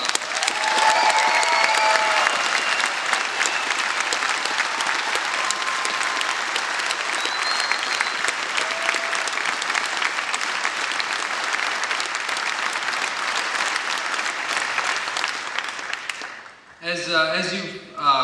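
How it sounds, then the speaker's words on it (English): Loud, sustained applause from a large audience honoring veterans and service members at a campaign rally, dense clapping with scattered cheers and whistles, fading out near the end as a voice begins. "Let's give them another round of applause."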